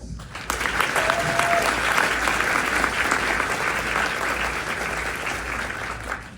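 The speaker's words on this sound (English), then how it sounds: "Give yourselves a huge round of applause." Sustained applause from a large audience fills a medical school ceremony hall, a dense, even wash of clapping that holds steady from start to finish.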